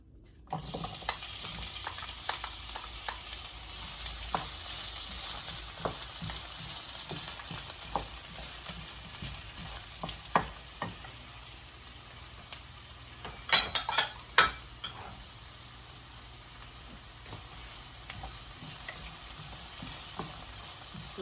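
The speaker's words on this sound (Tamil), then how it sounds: "இவ கொஞ்சம் வெங்காயம் கொஞ்சம் பொறிஞ்சு வரட்டும்" Red onions fry in olive oil in a pan, giving a steady close sizzle with occasional stirring scrapes and utensil clinks, and a few louder clatters partway through.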